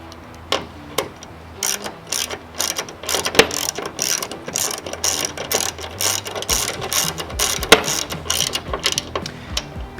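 A hand ratchet clicks rapidly while tightening the screws of a Toyota Tacoma tail light into its plastic housing. The clicks come in quick, uneven bursts at close range, with no voices.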